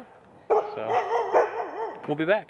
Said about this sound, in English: now we're gonna try to fight off some fiendish dogs coming our way.